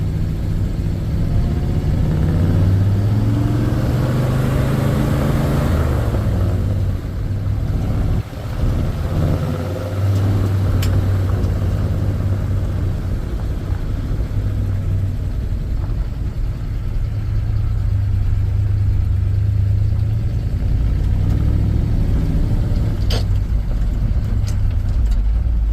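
A 1967 Ford F250 Highboy truck, fitted with a newly replaced carburetor, drives uphill with a loud, steady, low engine drone that holds under load for the whole stretch, close up and with no talking.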